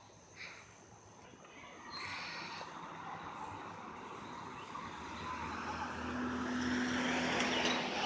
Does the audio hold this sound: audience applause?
no